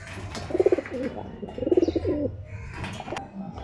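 Pigeons coo in two clear rounds of rippling, throaty calls, close by, with faint chirps and background rustle between them.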